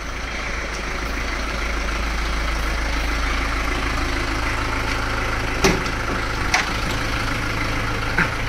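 A vehicle engine idles nearby in a steady, unbroken low rumble, with a few faint knocks over the constant drone.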